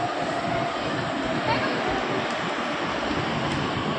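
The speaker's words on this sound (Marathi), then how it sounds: "आता ही मेट्रो येते आली मेट्रो" A metro train pulls in at an elevated station platform in Pimpri-Chinchwad (PCMC), producing a steady, loud rumbling roar that lasts throughout, with faint voices beneath it.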